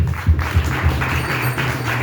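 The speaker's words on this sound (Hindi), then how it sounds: "आइए ताली मारेंगे" A congregation claps in a steady rhythm at a village prayer meeting in Sekta, Jalna, the claps close and moderately loud, with thumping low beats under a dense wash of many hands and no talk.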